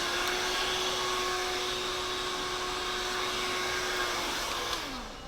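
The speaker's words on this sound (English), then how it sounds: "So I take my blow dryer and a neck duster, and I blow on the back of the neck" A blow dryer used on the back of a barbershop customer's neck blows air with a steady, close whooshing hum that winds down at the very end.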